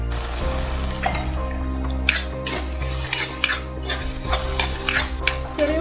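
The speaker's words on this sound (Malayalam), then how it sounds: "അപ്പോൾ നമ്മുടെ ചെറിയ ഉള്ളി എളുപ്പം വഴന്ന് കിട്ടും" Small onions with salt and green chilies sauté in a pan with a steady sizzle as a spoon stirs, scraping and clinking against the metal in repeated strokes, close and clear, with no talking.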